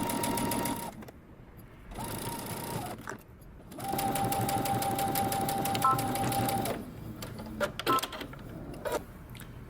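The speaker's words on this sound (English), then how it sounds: "Now we're going to take this to the sewing machine and we're going to stitch using 5/8 of an inch seam allowance." Sewing machine stitching a shoulder seam on a Simplicity 8291 dress at a 5/8-inch seam allowance, running in several steady bursts with pauses between, a strong close mechanical whir with a faint hum and clicks in the gaps.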